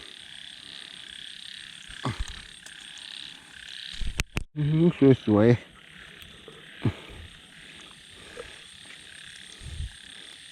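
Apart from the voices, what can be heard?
frogs croaking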